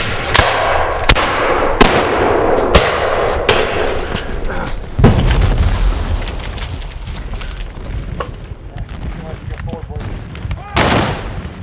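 Gunfire from a Civil War–era battle reenactment of the Army of Northern Virginia, with several sharp loud shots cracking out irregularly and one heavy blast midway, amid shouting voices and battle din.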